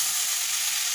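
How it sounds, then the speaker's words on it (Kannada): Chopped mushrooms fry in a pan with garam masala and coriander powder for a simple capsicum mushroom curry, a loud, steady, dense sizzle filling the whole moment with no voices. "ಹೆಚ್ಚಿಕೊಂಡಿರೋ ಮಶ್ರೂಮ್ ಬೇಯಿಸ್ಬಿಟ್ಟು ಫ್ರೈ ಮಾಡಬೇಕು."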